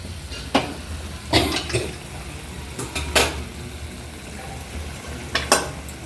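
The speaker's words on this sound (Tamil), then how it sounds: "இப்போ நம்ம தாளித்து விட்ட குழம்ப இந்த சட்டியில் பாதி ஊற்றிக்கலாம்" Tempered fish curry is poured into a pan, heard as a low steady bubbling sizzle broken by several sharp metal clanks and scrapes of a ladle against the pan, close by with no talk.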